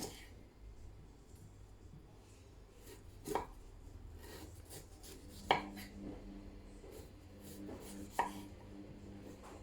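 A knife chops a big piece of ginger for a lamb curry, giving three separate, crisp strikes on a board several seconds apart over a quiet kitchen background.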